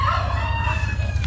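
Blue lace red Wyandotte chickens, with a rooster's drawn-out crow sounding close and fairly loud over a steady low hum, heard briefly with no talking.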